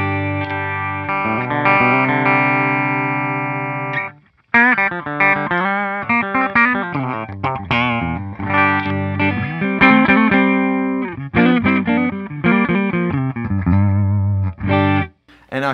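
A Music Man Steve Morse Y2D electric guitar through an Andy Timmons overdrive pedal, miked with a 57, plays a sustained ringing chord, then a busy run of short notes with a warm, slightly gritty tone, loud and close.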